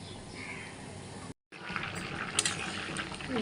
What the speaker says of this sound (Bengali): ঝোলটা জাল হয়ে গেছে